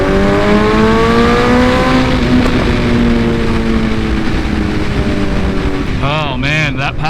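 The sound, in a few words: Suzuki Hayabusa motorcycle accelerating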